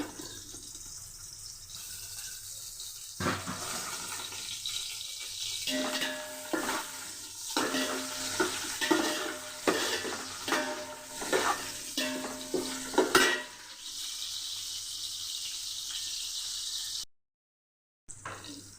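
Onions fry with biryani masala in oil in a pot, a continuous sizzle with repeated scraping stir strokes across the middle, moderately close, ending in a brief silence.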